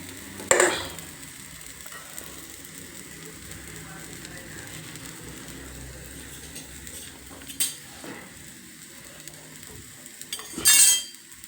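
Dosa batter on a hot griddle pan, a soft steady sizzle under sharp metallic clinks and scrapes of a utensil against the pan, with no voices.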